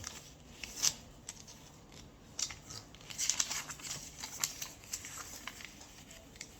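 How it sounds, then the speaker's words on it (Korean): Paper being folded into squares for a paper-blade craft, giving close crisp creases and rustles in short irregular bursts with faint crinkling between them and no voice. "여기도 사각형을 접어주세요."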